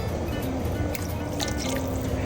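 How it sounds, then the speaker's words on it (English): A quarter cup of fish sauce pours into a pot of pho broth, a steady close wet trickle and dribble running throughout over a low simmering kitchen background. "There's a quarter cup of fish sauce going in,"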